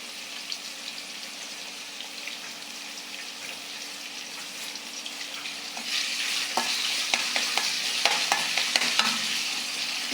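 Onion frying in a pan in a village kitchen, a soft sizzle that grows louder partway through, with scattered scraping clicks of stirring, close up and with no speech.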